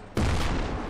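An ACF tank gun in Garry's Mod fires a single sudden, loud boom that cuts in sharply and rolls into a dense, rumbling tail, with no speech.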